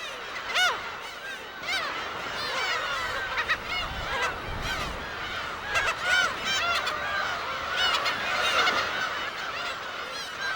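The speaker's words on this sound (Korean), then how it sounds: "독도의 하늘을 가득 메운 괭이갈매기는 7," A dense colony of black-tailed gulls on Dokdo island calls nonstop. Many overlapping mewing, honking cries fill the air at close and middle distance, with no talking.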